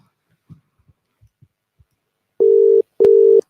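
A telephone line during a call sounds two loud, steady beeps, each about half a second long with a short gap between them, after a few faint scattered clicks.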